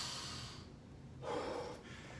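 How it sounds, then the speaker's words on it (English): A hard, forceful exhale through the mouth during a martial arts strength and conditioning workout, a single breathy burst following quieter breathing, close and alone. "Hard out through your mouth."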